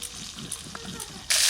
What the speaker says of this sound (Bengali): শোল মাছ তো ভাজা হচ্ছে